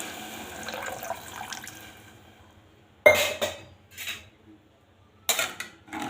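Water splashes into a metal pot of nombu kanji in two short bursts, with clinks of utensils and kitchen clatter beforehand.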